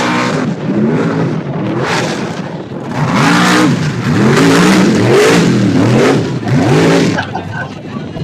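Truck engine in a mini open class event revs in repeated surges, loud and close, the pitch climbing and falling with each push of the throttle while a crowd murmurs underneath.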